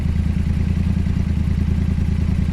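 A motorbike engine runs at a steady, throbbing idle with a light rise in revs, close and loud, with a rapid even pulse and no voices.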